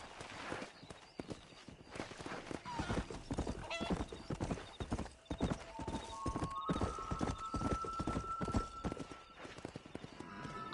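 Horse galloping in the Red Dead Redemption video game, a fast rhythmic run of hoof clip-clops with a whinny, close and steady, with brief talk over it.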